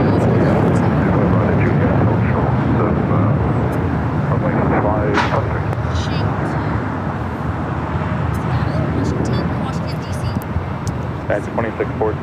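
A United heavy airliner taking off from runway 25 right at LAX, its loud roaring jet engines rumbling continuously at close range while voices talk over the noise.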